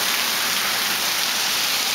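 Steady rain pouring down outdoors in Las Vegas, a dense, even hiss of drops hitting surfaces that fills the whole stretch without pause.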